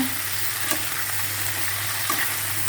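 Okra frying in a pan, a steady sizzle with occasional light scraping taps as the pieces are stirred, close and continuous with no voices.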